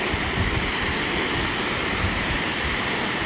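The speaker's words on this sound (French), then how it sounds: "Là, on est à la cascade du Bouchot." Cascade du Bouchot waterfall (Saut du Bouchot) rushes with a steady, dense roar of falling water, loud and continuous throughout, with no voices heard.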